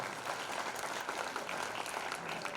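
Children applaud at a Dhakad community talent award ceremony in Jhalawar, a steady, dense patter of many hands clapping at even loudness throughout.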